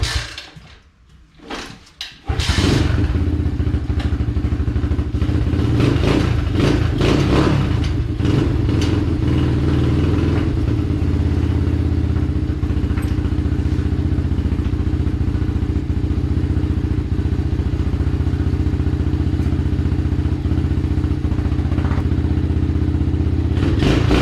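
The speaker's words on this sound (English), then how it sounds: "fire it up and see what happens" An Apollo Z20 dirt bike engine cranks and fires after brief clatter, then settles into a steady, loud idle with a few early revs, running alone without talk.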